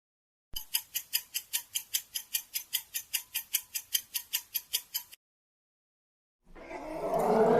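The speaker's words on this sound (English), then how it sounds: "It's an elephant." A steady series of even clock-like ticks stops, and after a pause an elephant trumpets loudly and harshly. The call swells and is cut off after about a second. No voices are heard.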